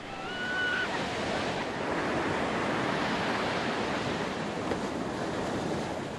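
Ocean surf rolls onto the Pangandaran coast in a continuous broad roar, with wind buffeting the microphone and no voices.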